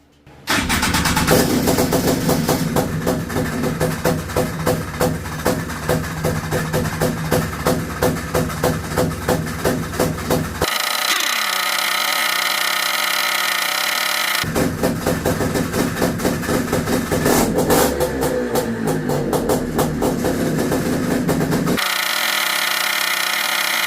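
A Honda FL350 Odyssey engine cranks and starts, then idles with a fast, steady rhythmic chugging that runs loud and close, with brief changes in tone partway through and no talking.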